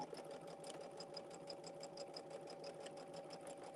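Quilt blocks feed through a home sewing machine in an even, continuous stitching whir with a regular rapid needle pulse, moderately faint and with no talk over it.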